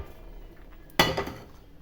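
A metal kadai pan set down on a stove gives one sharp clank with a brief ringing decay, close and clear against a quiet kitchen.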